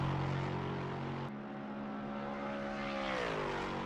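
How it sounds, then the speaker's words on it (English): Lexus GT3 race car engine in a racing video game at Spa, a steady droning whine that holds a pitch, briefly drops, then slides lower near the end, with no talk. "Such a nice sound that engine makes."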